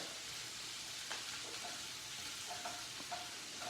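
Brussels sprouts dropped into a hot pan at medium-high heat give off a steady, broad sizzle throughout, with a few light clinks and scrapes scattered through the second half; no one speaks.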